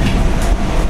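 Simulated Class 314 electric train easing its speed on the Cathcart Circle Line, giving a steady, loud rumbling rail drone with faint wheel clatter over a short moment.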